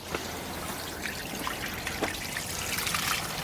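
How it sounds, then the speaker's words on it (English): Water trickling and dribbling out of a garden wetland filter box as it is partly emptied, a close, continuous splashy stream with small gurgles. "I'm just emptying the filter box a little bit to get rid of some water"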